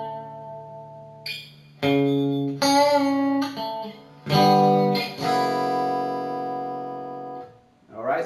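Guitar plays a short pre-verse as sustained, ringing power chords struck a few times with pauses between, close and clear with no talking.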